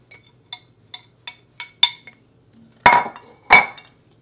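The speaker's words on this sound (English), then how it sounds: "now I'm going to add them to the pasta" Combined cheeses from a bowl being tipped onto pasta for mac and cheese, heard as a series of light, evenly spaced clinks of a utensil against the bowl, followed by two louder, fuller knocks and scrapes close by.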